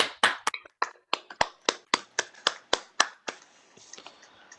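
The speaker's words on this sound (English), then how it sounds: "Let's give him a round of applause." A single person claps about a dozen times in a steady, close, fairly quiet rhythm at a Rotary club meeting, the claps thinning out and stopping near the end.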